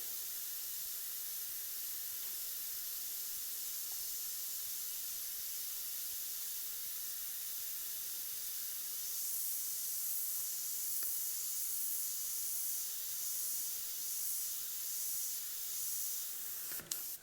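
An airbrush lays black and grey paint onto a saddlebag skull design, a soft steady hiss that swells louder in the second half with brief pauses, close and quiet, with no voices.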